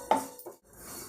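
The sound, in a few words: stirring oats while dry-roasting them in a pan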